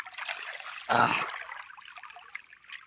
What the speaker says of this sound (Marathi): हे पाणी सोडलं आता मी